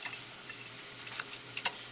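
Beef being stirred through a creamy white sauce, with soft wet clicks and scrapes, a few sharper taps near the end, close and fairly quiet with no talking.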